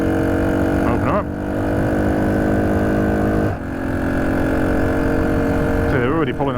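A 1968 Honda CT90 motorcycle engine pulls hard on a sunny ride, a loud close buzzing note that rises in pitch with short dips between pulls as it accelerates.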